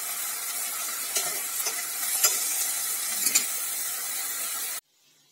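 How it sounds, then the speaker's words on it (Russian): A chicken fillet fries on its second side in a pan, a close, even sizzle with a few crackling pops that stops abruptly near the end. "переворачиваем наше филе и обжариваем со второй стороны"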